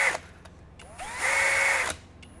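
A Masterforce 20V brushless compact 1/2-inch hammer drill driver whirs in short bursts on its variable speed trigger, with a brief blip, a rising whine and a steady run before spinning down, close up.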